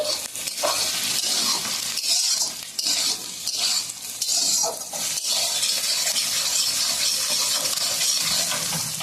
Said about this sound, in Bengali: পেঁয়াজ মশলাটা ভাজা হয়ে গেছে